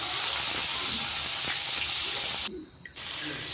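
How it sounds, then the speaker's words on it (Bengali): Koi fish frying in oil in a pan give a continuous close hiss of bubbling oil that dips briefly near the end, with no talking. "এক এক করে সবগুলি মাছ দিয়ে দিব ওই মাছ ভাজতে খুব একটা সময় লাগে না"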